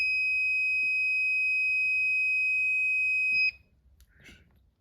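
A voltmeter gives a continuity test beep, a steady loud high-pitched tone held for about three and a half seconds before cutting off abruptly, followed by faint handling noise.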